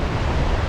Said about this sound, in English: the roar of the waterfalls and the cascading little creeks here just become